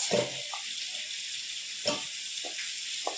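Potatoes frying in a pan give a steady, close sizzling hiss, broken by a few brief soft knocks.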